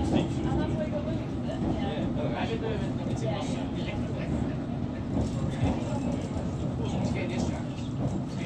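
Hammersmith & City line train on the London Underground running steadily, a continuous low rumble and rattle of wheels on track heard from inside a carriage, with faint voices and announcements mixed in.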